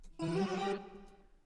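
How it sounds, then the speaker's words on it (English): A short, deep tone pitch-shifted down an octave, with a dense buzzy texture, about half a second long, then a fading tail. "And I'm going to add the pitch shifter on this."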